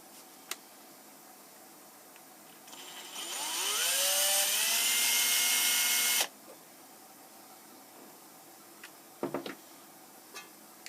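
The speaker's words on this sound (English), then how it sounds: "we've got the first hole marked, so we're going to go ahead and drill it in the caliper" Drill boring a hole through a digital caliper in a workshop, a rising high whine that holds steady for about three seconds and then cuts off abruptly, with faint clicks and handling noises around it.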